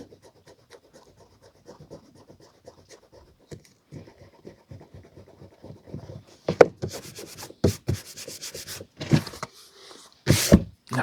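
A price mark being rubbed off the front cover of a vintage Puffin paperback: soft, scratchy rubbing strokes, quiet and rhythmic at first, then building into louder, brisker bursts of friction up close, with no talking.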